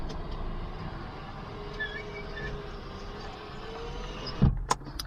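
Electric windows on a Rover 220 Coupe hum steadily as they are driven by the door switches, a faint motor whine over the car's background noise, ending with a couple of sharp clicks.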